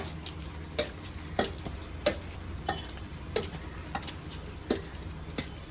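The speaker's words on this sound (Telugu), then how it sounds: "దీన్ని మనం పప్పు గుత్తుతో మెరిపేసుకుందాం" Repeated soft thumps of a wooden masher pressing cooked prawns in a pot, roughly one every half second, close by with no talking.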